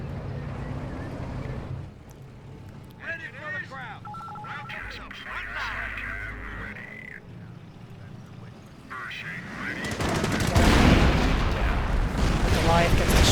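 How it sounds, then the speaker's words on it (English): Artillery shells land during a Company of Heroes battle, a World War II real-time strategy game, near a half-track; layered game battle noise, with a loud burst of crashing explosions swelling in the last few seconds. "artillery from Cardinal kills one of General Cheese's half-tracks"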